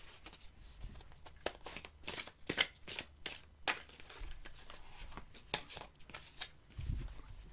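Tarot cards are shuffled for a reading, a series of quick papery riffles and soft slaps close by, arriving in irregular bursts with brief gaps between them.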